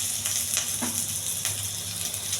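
Curry leaves dropped into hot oil in a pan sizzle and crackle close by, a brief steady frying hiss with a couple of spattering bursts.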